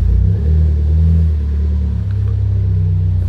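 Car pulling away for a test drive right after an ECU flash with a base-map tune, a steady low engine rumble that swells slightly as it accelerates, close and continuous with no talking.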